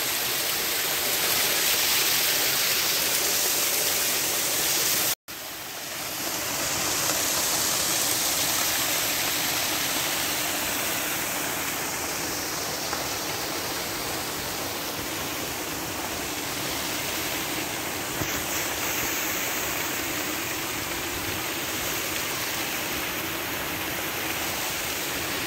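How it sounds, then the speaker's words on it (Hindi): Fast, ice-cold river water rushes through the Siran valley in a steady, loud roar that fills the whole stretch, with a brief dropout near the start and no voices over it. "वहाँ से बहुत ज़्यादा तेज़ पानी फ्लो हो रहा है"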